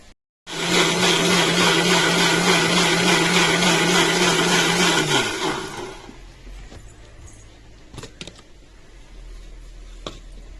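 A kitchen grinder whirs loudly and steadily as it grinds masala into a fine paste, then winds down and stops about two-thirds through, leaving faint clicks and quiet handling noise.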